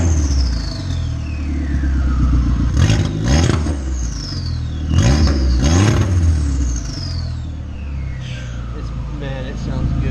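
An Audi fitted with a new downpipe revs hard several times, loud throaty engine swells rising and falling over a rumbling idle, with people talking over it.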